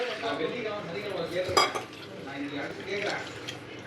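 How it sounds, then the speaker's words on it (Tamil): Soaked tamarind squeezed and dissolved by hand in water for fish curry in a home kitchen, giving soft continuous sloshing and clinking of vessel and utensils, with one sharper clatter partway through. "இப்போ நம்ம புளி ஊற வச்சுருந்தோம்ல அதை நல்லா கரைச்சி எடுத்துக்கலாம்"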